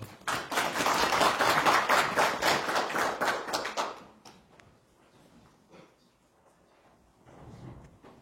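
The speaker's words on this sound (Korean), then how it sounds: "유시영 교수님을 박수로 맞이하겠습니다." An audience claps to welcome a professor to the podium at a Korean history talk, a loud burst of many hands that fades after about four seconds into scattered, quieter claps and taps.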